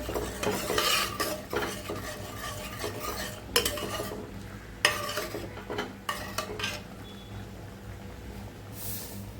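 Utensils scraping and clinking against a metal pot as thick cooked lentils for sambar are stirred, with a low sizzle underneath and sharper knocks now and then.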